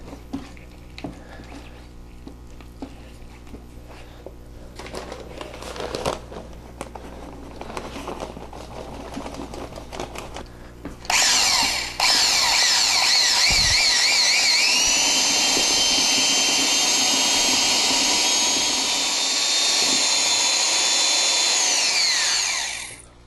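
Corded power drill with a paddle mixing hot drywall mud (setting-type joint compound) in a bucket, quiet handling and scraping first, then a loud sustained whining motor that runs steadily for about ten seconds before winding down.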